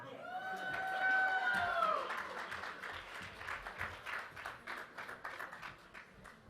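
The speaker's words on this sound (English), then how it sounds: "A round of applause, please, for the Master of Science in Translational Medicine graduates." Applause from an indoor audience for graduates at a commencement ceremony, starting over a brief cheer or voice and settling into steady, moderately distant clapping for several seconds.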